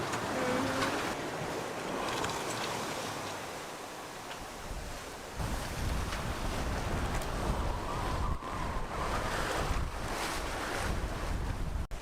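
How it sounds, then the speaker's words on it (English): Large ocean waves surge and wash around a moving sailboat on a Pacific passage to Hawaii, with heavy wind buffeting the microphone and rushing water swelling and fading. "it's pretty big waves now"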